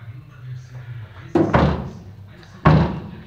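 Doors on a VW Beetle are shut being aligned during bodywork repair, giving two solid metallic slams about a second apart over a low hum, close and loud, with someone talking nearby.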